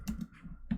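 Quiet typing on a computer keyboard during a coding contest, a few soft, close keystrokes in an uneven rhythm over a brief moment.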